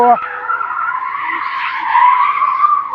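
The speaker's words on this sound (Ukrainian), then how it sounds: "Машини палять резину." Cars burning rubber near a missile silo entrance, a sustained loud tire squeal that rises and swells over three seconds, heard from a distance with a brief voice at the start.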